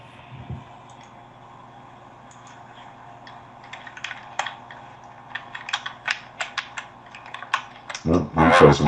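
Typing on a computer keyboard during a live online broadcast, scattered key clicks that quicken into a busy clatter, over a steady electronic hum with a louder burst of keystrokes at the end.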